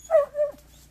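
A hunting dog whimpers in two short, high whining bursts close by, the second trailing off into quiet near the end.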